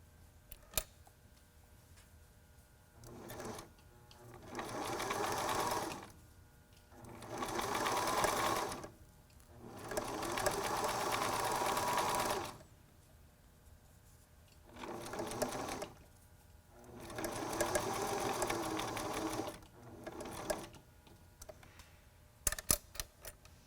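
A sewing machine stitches a face mask made from a T-shirt in about six separate bursts of rapid whirring, each lasting a second or two, with quiet pauses and small clicks between runs.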